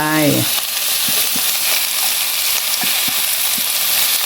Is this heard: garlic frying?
yes